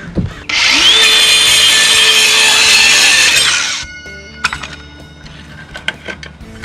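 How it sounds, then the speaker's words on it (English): A power saw whines loudly through wood for about three seconds, then stops, followed by scattered clatter and handling noises. "Hand me that saw, Frankie, please."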